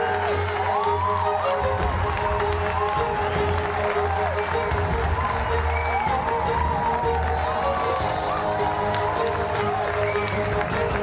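An audience at a talk on the DRC–Rwanda accord applauds to welcome a speaker, a loud dense wash of clapping and crowd noise that holds steadily throughout, with voices mixed in.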